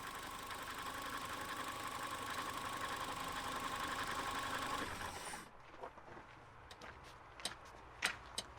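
A repaired Renault Twingo engine with a fixed crankshaft sensor fault revs up and holds a steady, loud mid-pitched drone for about five seconds, then drops abruptly to a quieter idle rumble with a few clunks and knocks.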